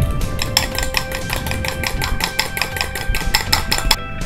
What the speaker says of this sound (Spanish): batir un poquito el huevo.